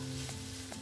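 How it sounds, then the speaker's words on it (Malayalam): Cooked tomatoes being stirred in a pan for a Kerala sadya-style masala curry, a soft continuous sizzle with two brief scraping stirs of the spoon, close and steady with no voices. "ഇതാ തക്കാളി നന്നായി വെന്തിട്ടുണ്ട് നന്നായി ഇളക്കി കൊടുക്കാം"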